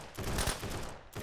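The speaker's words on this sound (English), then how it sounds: "And there's some of the gunshots already." Gunfire in a video game battle at an observatory, a dense burst of rapid overlapping shots rumbling as one continuous rattling volley, with no voices.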